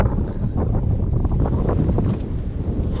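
Strong wind on a craggy hilltop, Pen y Foel in Wales, buffets the microphone in a steady, loud roar with gusty rumbling, no voices.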